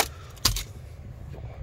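A brief jingle of keys for a 2009 Toyota Estima Hybrid, one sharp shake near the start, then soft handling rattle in a quiet space.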